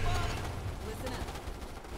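Shotgun fire in the strategy game Starship Troopers: Terran Command: a faint, dense clatter of overlapping shots and bursts, with voices talking over it.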